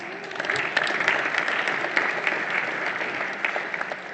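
An audience at a business luncheon bursts into sustained applause, with dense, steady clapping that fills the room throughout without pause.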